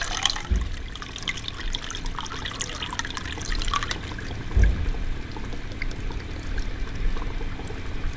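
Aquarium tank water, about one cup, is poured gently into a plastic fish bag, giving a soft, continuous trickle with faint splashes at close range.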